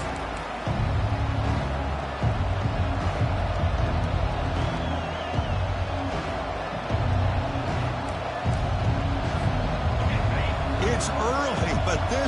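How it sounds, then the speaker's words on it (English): A large stadium crowd roars and cheers continuously, a dense wash of noise with a voice talking over it. "this crowd is fired up. Listen to this noise here."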